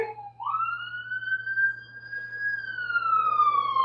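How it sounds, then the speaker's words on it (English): An ambulance siren passes outside, a single long rising and falling wail that grows steadily louder over a faint low hum. "Sorry about the ambulance."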